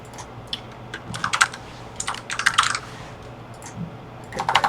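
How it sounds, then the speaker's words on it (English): Bursts of rapid keystrokes on a computer keyboard, close and fairly loud, arriving in irregular clusters separated by short pauses, with no one speaking. "You can just start typing name for it."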